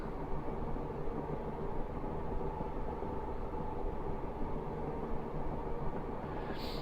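A Class 402 2-HAL electric train in Train Simulator works hard up gradients, giving a continuous, faint, steady rumble and hiss of motor and rail noise with no voices.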